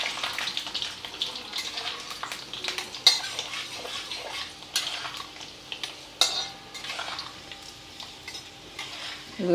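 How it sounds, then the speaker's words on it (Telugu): Mustard seeds, cumin and lentils fry in hot oil in a pan, a quiet sizzle broken by scattered clinks of a spoon against the metal. "ఆవాలు జీలకర్ర వేసుకుందాం ఫస్ట్, తర్వాత మినపప్పు, శనగపప్పు,"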